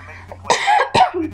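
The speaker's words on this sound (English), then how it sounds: "I had to cough." Two harsh coughs from a man, close and loud, in Five Nights at Freddy's 3, each a short rasping burst with a brief breath between them and no other talk.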